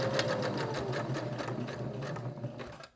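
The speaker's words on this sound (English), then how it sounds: "When I get to the point, I'm going to leave my needle down, lift my presser foot, rotate my project, and keep going." A home sewing machine stitches fabric for a heart-shaped project in a steady, close, continuous rapid run that stops abruptly at the end.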